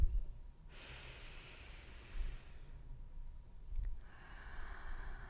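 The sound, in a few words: slow deep breathing in and out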